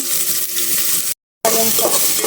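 Garlic, onion and ginger sautéing in a pan give a steady, close sizzle, cut by a brief moment of silence before the frying resumes with faint stirring sounds.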